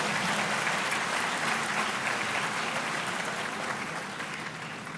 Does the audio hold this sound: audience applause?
yes